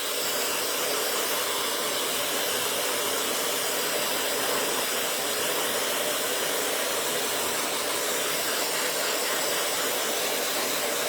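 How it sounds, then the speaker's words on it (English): An Axia hair dryer blows steadily on hair roots, a loud, continuous broadband whoosh of airflow with a motor hiss, unbroken for the whole stretch and with no talking. "I'm just gonna go through and like do my roots right here."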